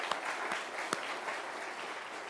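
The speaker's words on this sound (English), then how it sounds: "But let's give her a round of applause as well." Audience applause at a swearing-in ceremony, a steady wash of clapping from a crowded room with a few sharper individual claps standing out near the start, moderately distant and sustained throughout.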